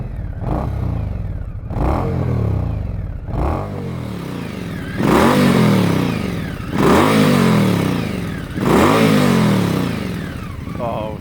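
A 2019 Indian Scout Sixty motorcycle engine on stock exhaust revs loudly and up close, with repeated throttle blips rising and falling over a steady idle, about six rev bursts in a row.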